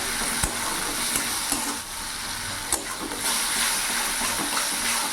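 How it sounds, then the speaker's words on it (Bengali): Spice masala with a little added water frying and being stirred in a pan for duck egg curry, a steady close sizzle broken by scraping stirs and soft clinks. "এবার আমি ভালো করে মশলাটা কষিয়ে নেব।"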